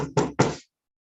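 Two sharp knocks on a locked storage room door, close and distinct with a short gap between them, each ringing briefly before silence follows.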